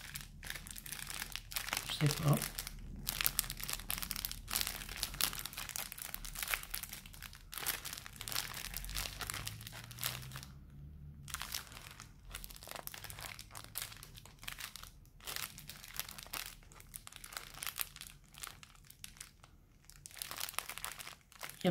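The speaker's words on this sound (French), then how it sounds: "Il y a du papier bulle." Crinkling and crunching of bubble wrap handled up close, in bursts of rustling, with a person briefly speaking.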